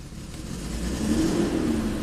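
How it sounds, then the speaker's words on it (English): Mitsubishi Montero 4x4 engine revs up from idle, a fairly quiet mid-pitched hum that swells gradually into a higher, steadier rev. "Now if we rev it up a little bit,"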